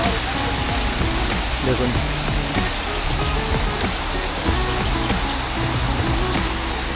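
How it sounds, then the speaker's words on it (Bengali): River water rushes and tumbles down in Antalya, Turkey, a loud continuous broadband roar filling the scene, with someone talking over it. "তো মেন এই জায়গাটা থেকে জলটা বয়ে আসছে"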